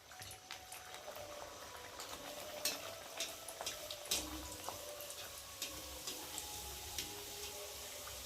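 Pea-filled kachori dough frying in hot oil in a wok, a quiet, steady sizzle and bubbling with scattered small pops and crackles throughout.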